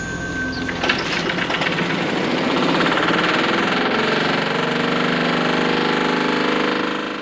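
An engine running on a liquid hydride fuel made with ammonia, a steady loud mechanical drone and clatter that holds evenly throughout, with a brief sharper rattle near the start.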